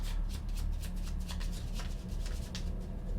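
X-Wing miniatures game cards are shuffled back into a deck, a steady run of soft riffling flicks close by, with no talking.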